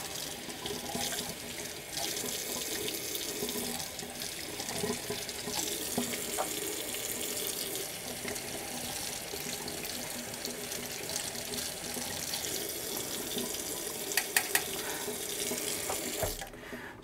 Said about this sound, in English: You're really just rinsing out your paint.